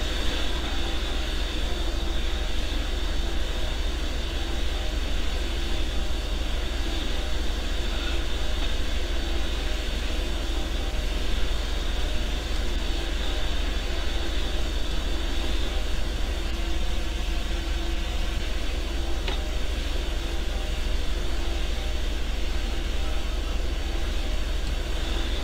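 A steady, unbroken drone of an aircraft engine in cruise flight inside a flight simulator game, broadband and constant throughout with no talking.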